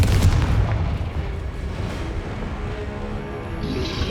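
Spell blasts in the Hogwarts Legacy video game: deep, booming explosive bursts that run together into a loud, continuous rumble, with magical effects layered on top.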